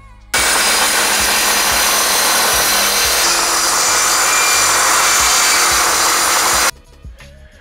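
Power tool cutting wood verticals for faux box beams, a loud continuous cutting roar that runs steadily for about six seconds before stopping abruptly.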